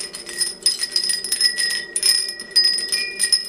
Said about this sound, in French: donc j'ai acheté un carillon pour commencer qui va à ma porte et qui s'est emmêlé